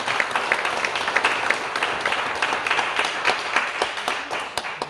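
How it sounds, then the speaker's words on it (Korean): An audience at a church jubilee thanksgiving celebration gives a dense, sustained round of clapping for about five seconds, fading slightly at the end, with no talking over it. "다시 한번 박수 한번 하겠습니다."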